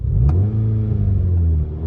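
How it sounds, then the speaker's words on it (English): A Volkswagen Golf GTI Mk6 engine revs with a deep, loud, rumbling drone that rises and holds steady, heard up close. "When you rev this car,"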